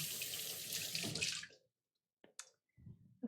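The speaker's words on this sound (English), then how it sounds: "Let me give my hands a rinse real quick." Water runs from a kitchen tap for hands to be rinsed, a loud steady splash that stops abruptly halfway through, followed by a few faint drips and handling sounds.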